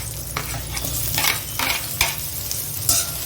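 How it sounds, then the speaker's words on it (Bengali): Chopped onion frying in hot oil in a pan of dal, a steady close sizzle broken by periodic scraping stirs of a spoon, loud and continuous with no voices. "পেঁয়াজটাকে আগে লাল লাল করে ভেজে নেব।"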